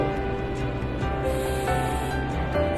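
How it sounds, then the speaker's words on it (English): Water sprayed onto a hair section while styling mermaid beach waves, a close, soft hiss of mist bursts repeating in quick pulses over low background noise. "So now we start with spraying the section."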